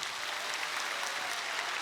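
Church congregation applauding during a 70th-anniversary Sunday worship service, a steady wash of clapping that fills the short stretch at moderate, even level with no voices over it.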